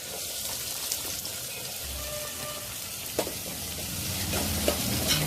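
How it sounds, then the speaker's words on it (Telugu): Green chillies and onions fry in plenty of oil, a continuous, close crackling sizzle with scattered sharper pops and light stirring clicks, no voices over it. "ఇప్పుడు పచ్చిమిర్చి, కొంచెం పచ్చిమిర్చి ఫ్రై అయినాక ఆనియన్స్ వేసుకోవాలి."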